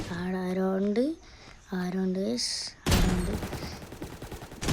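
Sniper gunfire in the browser shooter game DEADSHOT io: after two stretches of voiced, melodic game or speech sound, a loud broadband burst of shots erupts and keeps crackling until the end.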